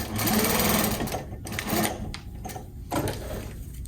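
A sewing machine stitches a box cushion slipcover, running in several quick mechanical bursts with short pauses between them, close and fairly soft.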